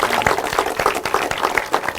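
Studio audience applauding at a Hindi film spotlight event for the movie Kaabil, a dense steady patter of many hands clapping, fairly close and loud, with no talk over it.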